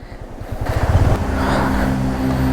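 Rushing roar of water pouring steeply down a waterfall near a tunnel on an off-road trail at Uluppuni, a steady, dense wash that swells after a second, with some wind buffeting and low rumbles at the start.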